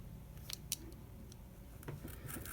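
Scissors cut out a paper picture for a tea card, giving a few soft, close snips and paper rustles against a quiet room hum.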